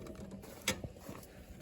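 A winch is unhooked on a four-wheeler fitted with a snowblower, a short bout of faint metallic clicks and a ratcheting creak close by, with one sharper clack in the middle.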